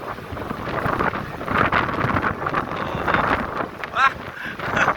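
Strong wind gusts roaring steadily into the microphone outdoors in the afternoon, loud and continuous with buffeting, while a man exclaims over it.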